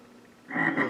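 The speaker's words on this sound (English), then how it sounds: "Here's a gray tree frog, F-R-O-G." A gray tree frog gives a short buzzy trilling croak that rises out of near silence halfway through and holds strongly to the end, close and clear with no voices.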